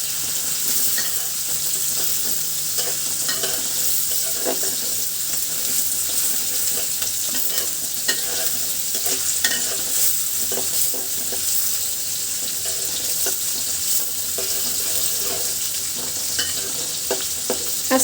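Onions and chilies fry in a pan for a rui fish curry with potatoes, giving a steady, loud sizzle broken by repeated scraping and clatter as they are stirred.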